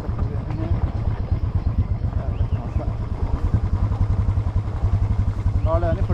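A motorcycle carrying three riders on a rough village road in Nawalpur throbs steadily close by, its engine pulsing without pause while voices talk over it.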